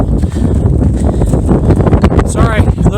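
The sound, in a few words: wind blowing into microphone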